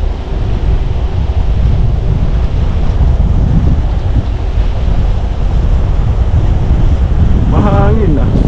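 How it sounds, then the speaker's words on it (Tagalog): Strong wind roars over the microphone during a scooter ride along a path from Heritage Ranch to Bower Ponds in Canada, loud and constant throughout, with a short voice near the end. "Lakas ng hangin dito."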